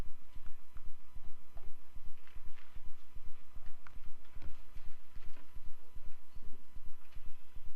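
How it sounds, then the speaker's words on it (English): A horse's hooves clip-clop in a steady, even walking rhythm, crisp and fairly close, with each hoof strike distinct. "Or somebody riding a horse."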